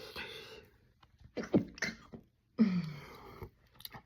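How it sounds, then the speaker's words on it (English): A single close sneeze bursts out mid-clip, followed by a second sharp exhale, with quiet breathing and rustling around it. "I had to sneeze."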